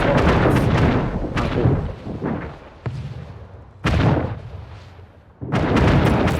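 Heavy artillery in a video game fires in repeated loud booming blasts, several overlapping volleys with rumbling decay between them, sounding from multiple directions.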